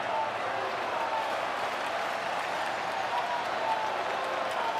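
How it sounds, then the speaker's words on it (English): Sellout crowd at a Milwaukee Brewers baseball playoff game roars and applauds in a continuous, even wash of cheering with no letup. "Sellout crowd here in Milwaukee on their feet."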